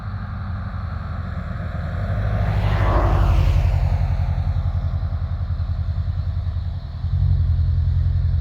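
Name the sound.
drone flying overhead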